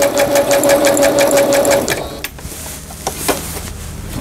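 Singer 7258 sewing machine stitching a zigzag pattern, a steady rapid mechanical chatter for about two seconds, then it stops and a few quieter handling clicks follow.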